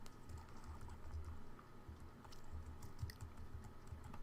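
Typing on a computer keyboard, a quiet, steady patter of soft key clicks spread across the whole stretch with no voice over it.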